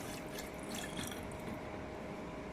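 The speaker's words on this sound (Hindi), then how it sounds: "ये चाशनी के लिए मैं इसमें पानी डालती हूँ" Water runs into a cooking pan on a stove for sugar syrup, a soft trickling and splashing pour heard faintly and continuously with no talking.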